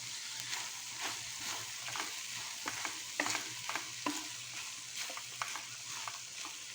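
Grated coconut is stirred into a pan of cooked valley beans poriyal, giving soft scraping strokes over a faint, steady sizzle, quiet and close with no talking.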